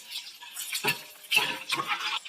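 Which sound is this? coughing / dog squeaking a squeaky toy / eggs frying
eggs frying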